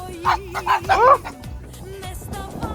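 Several dogs bark and yip in quick excited bursts close by, followed by a lower whining tone and faint background noise, in Pavlohrad.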